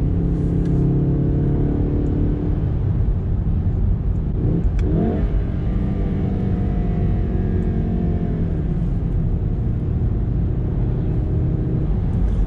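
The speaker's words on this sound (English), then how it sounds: "That was just half throttle launch off a stoplight." A Volkswagen Golf R Mk7.5 engine revs up hard and climbs through a long half-throttle launch from a stoplight, loud and close, with a brief shift-like break partway through before continuing to pull.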